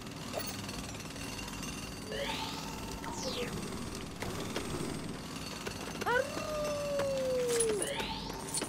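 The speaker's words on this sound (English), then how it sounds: "Kind of hard to be sure with that awful howling Daisy keeps doing, though." Daisy the dog lets out a long, wavering howl inside the Crait Outpost of LEGO Star Wars: The Skywalker Saga, rising then slowly falling over a mechanical, jackhammer-like rattle and scattered game sounds.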